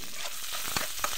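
Chopped onion and chili fry in hot oil in a kadai as they are stirred, a close, even sizzle with two quick scraping strokes of the spatula.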